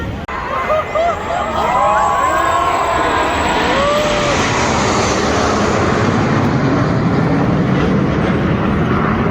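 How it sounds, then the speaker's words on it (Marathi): Indian Air Force Suryakiran jets flying at an air show over Mumbai's Marine Drive, a loud, steady engine roar that rises early and holds as they pass overhead, over background crowd murmur and talk. "2 प्लेन एकसाथ फ्लाय होतात बघा."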